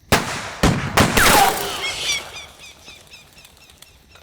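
A volley of gunfire from pistols and rifles in a film scene: three or four loud, close shots in quick succession, followed by fading echoes and flapping wings as birds scatter.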